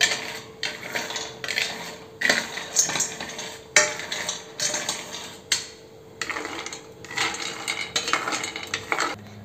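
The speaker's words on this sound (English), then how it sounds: "So now I will fry these, and a reminder, you have to fry them in low heat" Cashews and dry fruits frying in a pan on low heat, with repeated stirring and scraping of a utensil against the pan in uneven bursts and a faint sizzle underneath, close and fairly loud, no talking.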